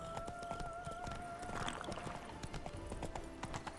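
Roach, Geralt's horse in the video game The Witcher 3, trotting along a path with a steady clip-clop of hooves over faint game ambience and music.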